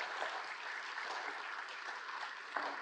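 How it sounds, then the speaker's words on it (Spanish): Steady, dense audience applause for a doctor introduced at a neurology lecture, even and sustained at moderate distance with no voices over it. "Démosle un fuerte aplauso al doctor Rogel"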